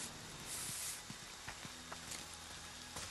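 A spray can hisses during a round of the Friday the 13th: The Game video game: a soft, broad hiss swells near the start, with scattered short in-game clicks and thuds around it.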